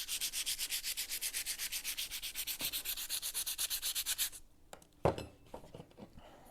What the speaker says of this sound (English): You got a machine sander? A mechanical sander?